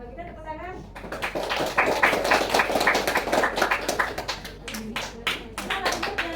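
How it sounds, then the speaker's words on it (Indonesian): Students in a classroom clap their hands together, a dense burst of many overlapping claps that thins into a few scattered final claps, with some voices underneath. "kalau kita tepuk tangan"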